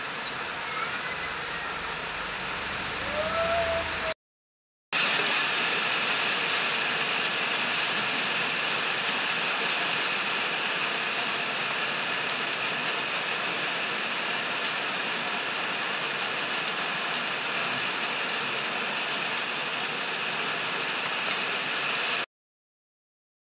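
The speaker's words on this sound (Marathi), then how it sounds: "तर बघा पाऊस इतका मोठा आला" Heavy rain falls steadily over farmland with a millet crop, a dense, even hiss that stays loud and continuous after a brief gap near the start.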